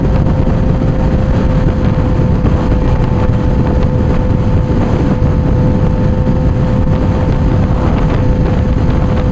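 Suzuki GSX-R 750 motorcycle being ridden at speed, its engine droning steadily with a sustained tone under heavy, loud wind buffeting the microphone, continuous and close with no talk.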